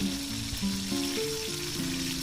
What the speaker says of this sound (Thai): พอทอดจนเหลืองได้ประมาณนี้เราก็ใช้ได้แล้วค่ะก็ให้เพื่อนๆตักขึ้นได้เลยค่ะ